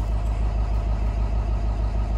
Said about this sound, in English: Old bus is warming up, building up some air so we can get on the road.